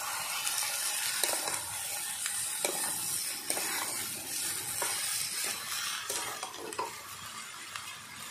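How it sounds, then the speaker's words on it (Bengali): Potato, eggplant and mitul frying in a pan over browned onion, a steady close sizzle with repeated scrapes and clinks of a spatula stirring. "এবার দিয়ে দেবো আলু আর বেগুন, সঙ্গে দিয়ে দেবো মিটুলি"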